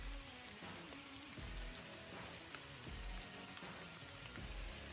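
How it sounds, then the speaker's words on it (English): Rain falling outdoors on a November afternoon during a whitetail deer hunt, a faint, steady patter of drops with scattered soft taps against a quiet background and no voices. "As you can tell, it's raining"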